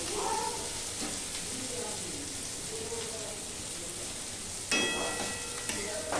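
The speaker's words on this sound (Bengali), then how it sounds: "পেঁয়াজটা একটু ভাজা ভাজা করে নেবে।" A steady, soft frying hiss of onions cooking in a pan runs throughout, with a few light clinks and a sharper scrape near the end.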